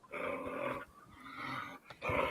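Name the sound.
playful puppy growling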